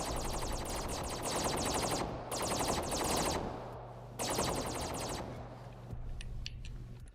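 Rapid automatic gunfire rattles in three long bursts in the Cornucopias video game, followed by a few faint scattered shots.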